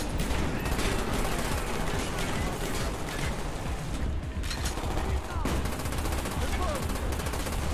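Dense, continuous gunfire from Call of Duty Black Ops, with overlapping shots and bursts from many directions filling the whole stretch at a steady loud level, with game voices mixed underneath.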